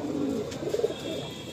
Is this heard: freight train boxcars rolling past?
no